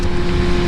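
A Suzuki GSX-R600 motorcycle engine in sixth gear hums at steady, fairly high revs as a loud, close, continuous drone for a brief moment.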